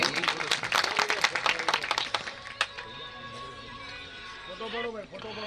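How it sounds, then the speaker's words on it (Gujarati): Applause at a religious gathering in honour of a revered bapu, a burst of dense clapping over the first two seconds that fades into a voice speaking over faint crowd noise. "તાળીઓથી વધાવી લઈએ"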